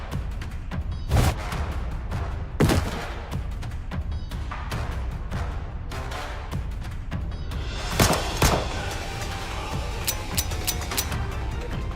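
Rapid gunfire and heavy impact booms from the Nikke video game, with loud bursts near 1, 2.7 and 8 seconds over a dense, continuous battle din, and no voices.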